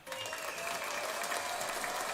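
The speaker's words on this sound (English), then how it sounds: "There's clearly people cheering." A studio audience at a live sitcom-history show cheers and applauds, a dense wash of clapping and whoops that swells quickly and holds steady at moderate volume.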